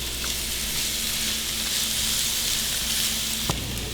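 Mushrooms and vegetables sauté for chicken fried rice, giving a constant close hissing sizzle with a faint low hum beneath and one sharp utensil tap near the end, no talking.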